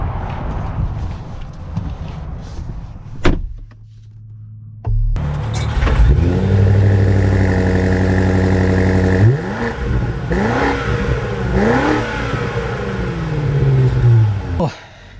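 A 2025 BMW M5 Touring hybrid revs hard after a brief quiet spell, its engine note rising and falling through several sweeping pulls, loud and close, with some lighter clatter beforehand.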